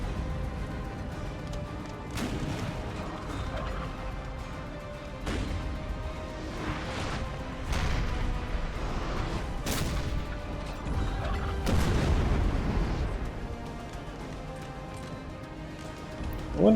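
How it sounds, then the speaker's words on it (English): Repeated booming cannon fire from French artillery on a Napoleon: Total War battlefield, several heavy blasts spaced a couple of seconds apart over a continuous rumbling din of battle. "solid fire there from the French artillery"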